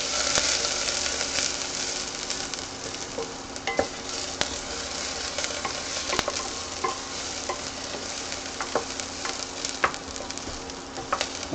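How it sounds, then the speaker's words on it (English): Small chopped onions sizzle and fry in a pan over high heat while being stirred, a steady close crackling hiss with occasional light scraping and tapping. "I just want to brown the onions. So that's why I have them on high."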